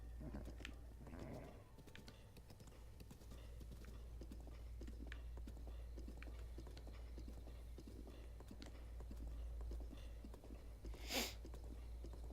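Horse hooves clip-clopping along a path in Zelda Breath of the Wild: faint, steady rhythmic hoofbeats under a low rumble, with one brief brighter burst near the end.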